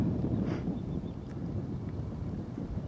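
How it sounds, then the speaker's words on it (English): Breezy wind up on the open downs buffets the microphone with a constant low rumble and gusty roar, loud and close throughout. "pretty breezy"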